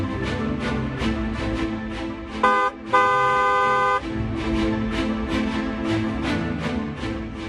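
Two loud car horn blasts, a short toot then a longer sustained honk, cut through rhythmic music playing underneath.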